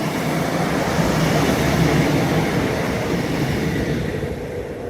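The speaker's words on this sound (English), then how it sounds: "Here is a train going back the way we just came to Bridgend." A Class 150 passenger train passes along the line at the Porthkerry Viaduct in South Wales, making a loud, steady rumble with rolling wheel noise that fades slightly toward the end.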